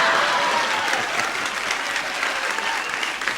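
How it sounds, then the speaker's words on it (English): A studio audience at The Price Is Right game show in the 1980s gives loud, sustained applause, a dense, even roar of clapping throughout with no talk. "your smiles and your applause, I appreciate"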